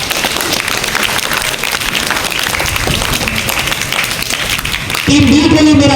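An audience at an Iqbal Day quiz competition breaks into brisk, steady clapping for about five seconds before a voice takes over.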